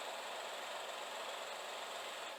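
An engine runs nearby with a steady, loud broadband rumble and hiss that holds constant throughout, no voices over it.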